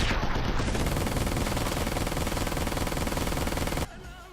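Rapid automatic gunfire from the video game Ride to Hell: Retribution rattles loud and continuous for a few seconds, then cuts off abruptly.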